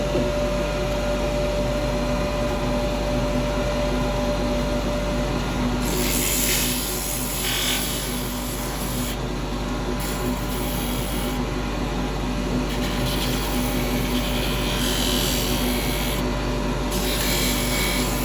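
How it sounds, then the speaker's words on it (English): Sandpaper rasps against a spalted beech lidded box spinning on a wood lathe, giving a steady close hiss over the motor's constant hum. The abrasive scratch swells and eases in short passes as pressure changes. "let's sand that"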